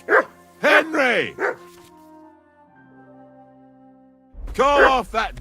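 A dog in Kingdom Come Deliverance 2 lets out a few loud, close barks and yelps, falls quiet under a sustained musical tone, then bursts into another cluster of barks at the end.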